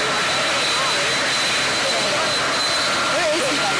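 Helicopters departing from an outdoor event make a loud, steady turbine roar with a high whine, while people talk faintly underneath.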